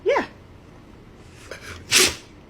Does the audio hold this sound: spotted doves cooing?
no